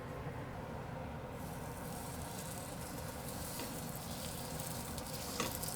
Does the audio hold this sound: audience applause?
no